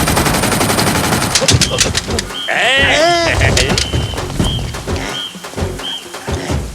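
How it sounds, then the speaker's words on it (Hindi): Gunfire rings out in an action film scene. Rapid, sharp bursts come at the start and end, mixed with loud music, bleat-like tones and other soundtrack noise. "सुन, गन का साउंड"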